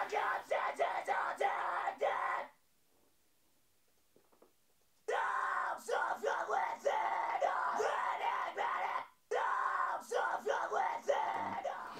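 A metal vocalist belts harsh, sustained screams in a recording studio, three long bursts separated by near-silent pauses, loud and close.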